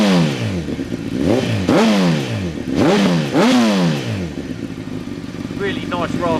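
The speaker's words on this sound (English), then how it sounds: "Just give that throttle a blip so you can hear the exhaust." A motorcycle's exhaust rasps through a few sharp throttle blips close by, each rev climbing and falling away, followed by a softer burbling idle with faint pops.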